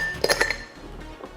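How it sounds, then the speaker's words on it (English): Ice cubes clink and rattle into a cocktail glass in a quick cluster of bright knocks, followed by a couple of softer taps, close and clear with no talking. "we're gonna build this in a glass, and we're gonna add some ice."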